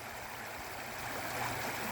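Steady, soft rushing of water flowing in a drainage channel, a continuous trickling wash with no voices.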